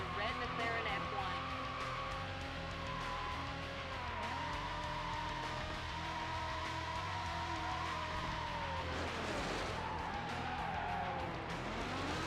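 A red McLaren F1 races in a high-speed pursuit in the PS2 game Need For Speed: Hot Pursuit 2, its engine droning continuously with repeated tire squeals, and a voice talks over the game sound.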